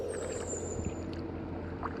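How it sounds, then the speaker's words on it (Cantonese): Rowing a boat through the Royal Belum rainforest, with a steady soft wash of water and boat noise close by, a faint high whistle early on, and no talking. "我哋再去划船"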